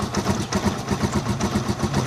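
A Rusi Chariot 175 motorcycle with a stock carburetor idling close by, a steady, even mechanical putter with regular rhythmic pulses and no voices.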